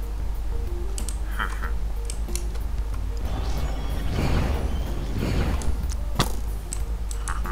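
Minecraft Illusioner mob sounds from the 1.12 snapshot 17w18b: sharp clicks and ticks mixed with a few airy whooshing swells over a low hum, played without speech.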